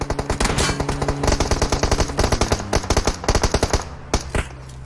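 Automatic gunfire sprays in PUBG Mobile, fired through a 6x scope: rapid, loud bursts of shots in quick rhythmic volleys, a short pause, then a few more scattered shots near the end, no talk.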